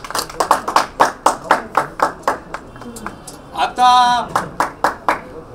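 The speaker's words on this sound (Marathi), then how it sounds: "एकदा गुरुजींसाठी जोरदार टाळ्या आल्या पाहिजे आमच्या गुरुजींसाठी" Sharp, evenly spaced claps ring out in a steady beat for a magician's guru at a World Children Day magic show, with a voice speaking briefly and a short tonal sound near the end.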